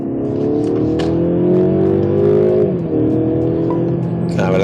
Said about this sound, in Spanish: Si lo ponemos en el sport, cambia el sonido del motor, el que nos entra al habitáculo